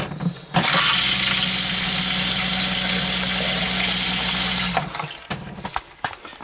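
Water gushes steadily from a sink tap in a parked motorhome, a loud continuous rush for about four seconds before it shuts off, leaving faint clatter and handling noises.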